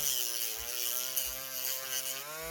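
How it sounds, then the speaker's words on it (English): A Dremel rotary tool on low speed cleans up an RC4WD TF3 steering part, giving a close, steady buzzing motor whine that wavers slightly in pitch, with no talking. "we're just going to dress this up with our Dremel on low speed"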